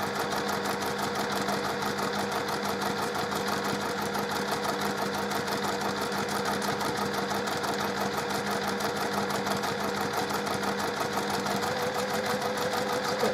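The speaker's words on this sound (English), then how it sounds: "I'm going to just stitch down that line." A sewing machine runs a continuous stitch along a drawn line on scrap fabric, its fast, even needle rhythm whirring steadily and close for the whole stretch with no pauses or talk.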